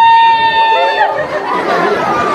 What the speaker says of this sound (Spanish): El grito de las mamás.